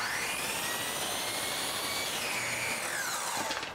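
A power saw cuts crown molding on a miter box, a loud continuous whine that shifts pitch midway through the cut and then winds down.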